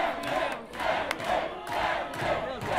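A live wrestling audience at a Stockholm show chants and cheers in rhythmic swelling waves, a crowd roaring in unison several times in quick succession, loud and close.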